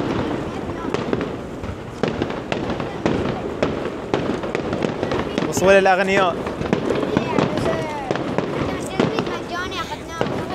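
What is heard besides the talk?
fireworks exploding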